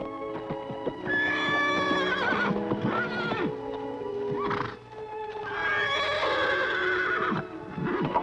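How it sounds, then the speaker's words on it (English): A wild horse neighs and whinnies loudly and close, with several long shrill calls separated by short gaps, mixed with clip-clop hoofbeats. "a great wild horse and the only person on earth who can ride him"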